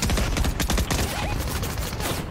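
Rapid video game gunfire in a dense, loud burst of repeated shots that runs almost without pause, close and dominant with no talk over it.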